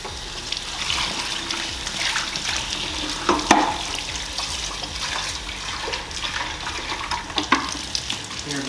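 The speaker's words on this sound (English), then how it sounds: "Give that a really good rinsing." Hot water runs and splashes while a dispenser container is rinsed out, a steady close gush with sloshing and small knocks throughout.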